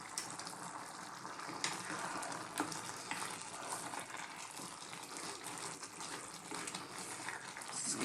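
Spices and softening lentils frying in a pan with chili, coriander, cumin and turmeric powder for a chicken lentil curry, a faint steady sizzle with light scraping and stirring bumps throughout.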